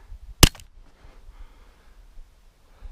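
A single sharp gunshot from a firearm firing Fiocchi 5.7x28mm ammunition, one loud close crack with a brief echo, followed by quiet outdoor ambience.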